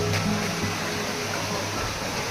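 Kallipalya waterfall pouring steadily, a continuous broadband rush of flowing water that stays even and fairly loud throughout, with no voices.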